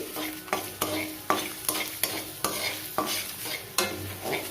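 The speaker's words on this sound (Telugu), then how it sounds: "వేసుకుని బాగా వేపుకోవాలి ఇలా కలుపుకుంటూ వేపుకోవాలి" Coriander seeds and crushed garlic stir-fried in a pan for curry leaf powder, a close dry sizzle broken by regular scraping strokes of a spoon roughly every half second.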